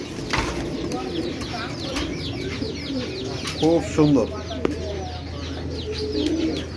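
Indian Bombay pigeons, a female and a male pair, coo in low rolling bursts midway, close by, with someone talking briefly over the steady background.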